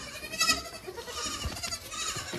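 Baby goat bleats on a farm, several short cries close by with rustling and farmyard noise around them.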